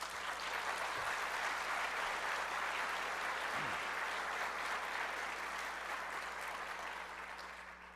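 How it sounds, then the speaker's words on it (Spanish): Sustained audience applause at a book presentation, steady and dense throughout, fading slightly toward the end. "pidiéndoles a todos ustedes un aplauso."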